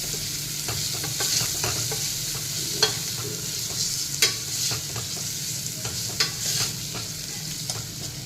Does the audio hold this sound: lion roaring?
no